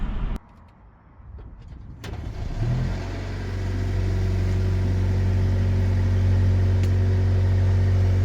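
A Mercedes CLE 300 4MATIC Cabriolet's four-cylinder turbo engine builds from quiet to a steady droning hum as the car pulls away and keeps driving, loud and close, no voices.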